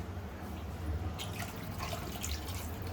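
Water is poured into a cooking pot of fish pulusu, a tamarind stew made with a large bocha fish. It makes a soft, faint trickle and splash over a low background hum.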